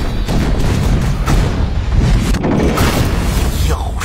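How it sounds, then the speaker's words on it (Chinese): A heavy explosion from the trailer for the martial arts film Tai Chi 0 fills the clip with dense, loud, sustained rumbling and booming. "爆炸"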